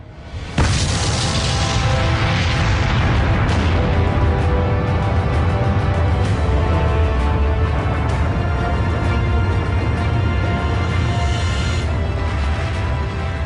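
An atomic bomb test explosion erupts as a sudden loud blast, then rolls into a long, sustained, thunderous roar that holds strongly for over ten seconds with deep rumbling, heard without talk.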